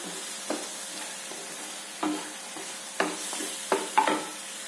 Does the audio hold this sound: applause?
no